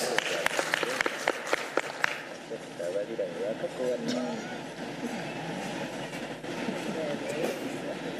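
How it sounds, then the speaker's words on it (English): An audience at a cooperative innovation awards event gives a round of applause, starting with a few sharp separate claps before settling into softer, distant clapping under a murmur of voices. "Let's welcome them with a round of applause"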